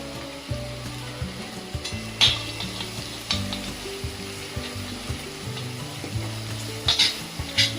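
A spice mixture with asafoetida being stirred and fried in a pan over lowered heat, giving a steady sizzle with scraping stir strokes and a few sharper clinks, close and alone.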